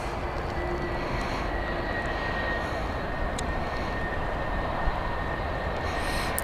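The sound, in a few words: Boeing 757 airplane at Edinburgh Airport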